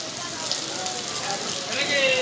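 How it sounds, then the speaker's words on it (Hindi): Steady broadband hiss of rain falling on hard surfaces, continuous and fairly close, with faint voices under it and a brief whistling tone near the end. "अभी आया बारिश, और पूरा ही पानी पानी लग गया है।"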